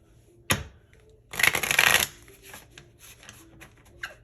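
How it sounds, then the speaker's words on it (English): Tarot cards being shuffled up close: a quick flick, then a rapid riffle burst followed by a few softer card taps and shuffles. "Let me shuffle quickly"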